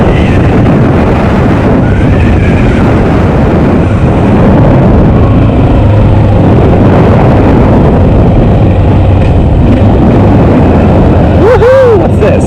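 A Honda XR650L motorcycle rides off-road, its engine roaring continuously and loud under heavy wind buffeting throughout.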